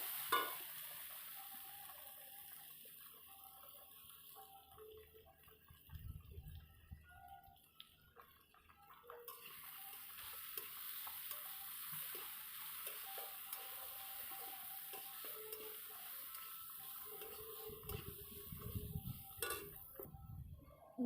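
Potatoes sizzle quietly in fish-frying oil with turmeric, with occasional stirring and scraping of a utensil against the pan; no talking.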